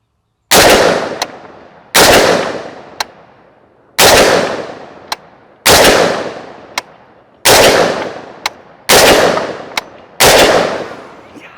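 Bear Creek Arsenal .458 SOCOM rifle emptying a magazine outdoors: seven heavy, booming shots spaced about 1.5 seconds apart, each followed by a long ringing decay and a sharp metallic click, loud and close.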